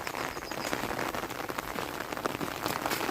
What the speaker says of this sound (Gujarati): અને વરસાદ છે ચાલુ બધે જો